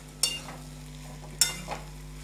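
Boiled chickpeas, potato and spices stir-fried in a pan for a vegetarian chana masala, with a few scraping stirs over a steady background hum, about two clear strokes and a softer third.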